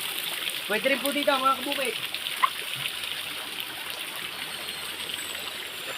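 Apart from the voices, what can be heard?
water flowing into a small outdoor bathing pool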